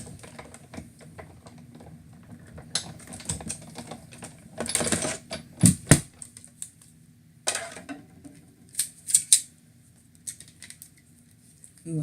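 Big Shot die-cutting machine running stamp plates through, giving a series of clicking, crunching and rattling bursts of varying loudness, strongest around the middle of the clip, with quiet stretches between.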